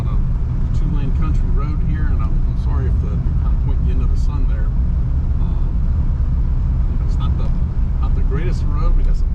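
A 1956 Packard with 4,800 original miles cruises along a two-lane country road, its engine and road noise forming a steady low rumble throughout while someone talks over it.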